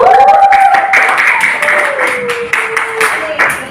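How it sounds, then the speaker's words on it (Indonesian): Pupils applaud in a classroom during a lesson on story elements, a short burst of clapping heard under children's voices and chatter. "tepuk tangan untuk mereka"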